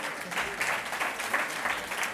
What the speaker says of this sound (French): Adrien Cachot, que je vous demande d'applaudir, s'il vous plaît.